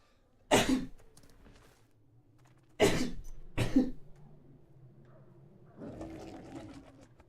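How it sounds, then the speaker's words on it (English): A streamer sneezes several times, with sharp loud bursts near the start and in the middle followed by a softer, noisier burst at the end, close to the mic against a quiet room. "I gotta sneeze."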